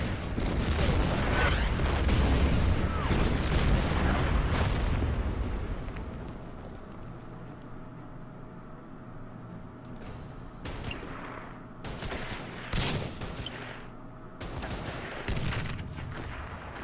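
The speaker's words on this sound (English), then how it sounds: "my artillery will fire on the enemy artillery" Artillery in the Order of Battle Panzerkrieg Kursk wargame fires in a dense rumbling barrage of booms at the start, which fades into scattered, sharper blasts and impacts later on.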